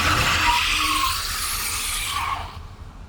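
MG5 electric car in sport mode, traction control off, spinning its tyres under full throttle with steering lock, a loud close scrubbing squeal that fades away toward the end.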